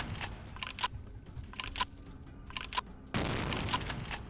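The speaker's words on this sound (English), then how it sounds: "Shotguns!" Shotgun fire in Vampire: The Masquerade - Bloodlines: several sharp, fairly close blasts in an uneven sequence, followed by a louder sustained burst of noise near the end, with no voices.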